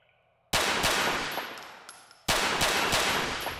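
Gunfire in Grand Theft Auto IV, two loud sudden bursts of rapid automatic shots, each cutting in sharply over quiet and ringing out before the next.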